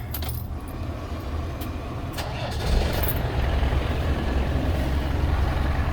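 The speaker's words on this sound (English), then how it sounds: "let's get this engine started first" Keys jangle, then a 1996 Land Rover Defender 90 engine cranks and catches, settling into a steady low idle close by.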